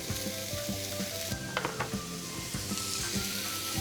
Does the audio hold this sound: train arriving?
no